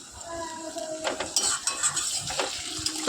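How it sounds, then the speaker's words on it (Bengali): Potato pieces fry in a pan for chana masala while a metal spoon stirs and scrapes them, making uneven clanks and scrapes over a soft sizzle. "আলুর টুকরোগুলোকে আমি এর মধ্যেই দিয়ে দিলাম, দিয়ে একটু ভালো করে ভাজতে থাকবো"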